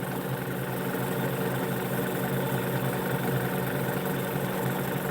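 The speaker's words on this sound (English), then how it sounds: "DC brushless motor." A DC brushless pulse motor with long, skinny coils and a magnet rotor runs steadily, giving a constant close hum and whir with no breaks for the whole stretch.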